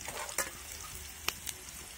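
Chillies and grated coconut frying in a pan, a soft steady sizzle with a few brief scraping stirs, fairly quiet and without speech.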